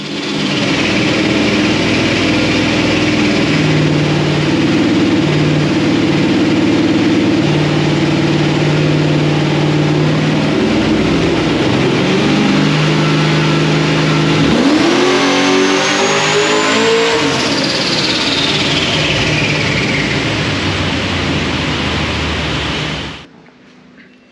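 Supercharged Vortech-blown LS1 V8 starts and idles loudly and steadily, then revs up sharply with a rising whine near the end before cutting off.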